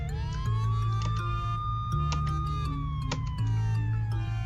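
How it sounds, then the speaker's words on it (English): A police siren plays from a phone's speaker in a video game, wailing steadily and loud throughout as it rises and falls, with a low electronic hum running beneath it. "a police siren is playing from its speakers"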